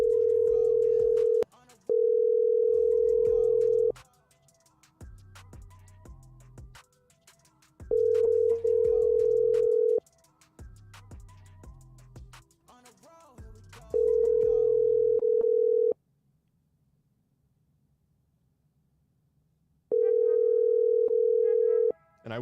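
An auto-dialer places phone calls that go unanswered: repeated steady electronic tones in long bursts separated by gaps, loud and clear, with faint low background sound between them.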